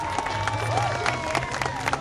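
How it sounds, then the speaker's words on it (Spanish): Crowd applause and light cheering welcome the Tuna Imperial, a student tuna music group from Mexico City, at an event in Durango; steady clapping with a murmur of voices and faint tones underneath. "Ven el aplauso, la Tuna Imperial de la Ciudad de México."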